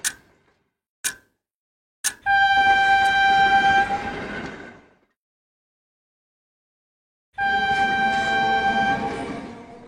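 A cartoon train rides along the rails toward a station: three sharp ticking clicks, then a loud sustained horn-like tone that fades, a silent gap, and another long blaring tone.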